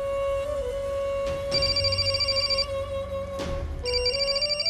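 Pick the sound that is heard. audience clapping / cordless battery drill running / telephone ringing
telephone ringing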